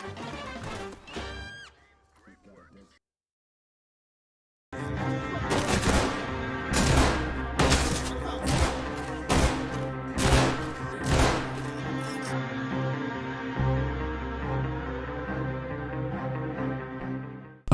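Firearms fire in the tactical shooter Ready or Not against armored suspects, a loud burst of sharp, evenly spaced shots after a short quiet gap, ending in a sustained ringing tail.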